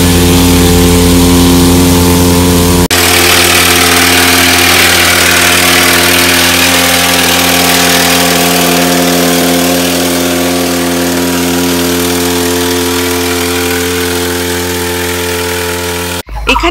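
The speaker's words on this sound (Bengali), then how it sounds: "এই প্রথম দেখলাম মেশিন দিয়ে চা পাতা ছাটার দৃশ্য।" A tea leaf trimming machine runs steadily among the bushes of a tea garden in the Gorumara forest area. Its engine drones loud and close, a constant motor hum that shifts slightly in pitch and continues without talk for the whole stretch.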